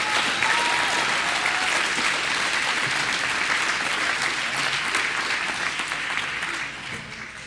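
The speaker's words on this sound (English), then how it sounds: "So if we could give them one more round of applause" A gym crowd at a high school wrestling senior night breaks into sustained, loud applause that holds steady throughout, then eases slightly near the end.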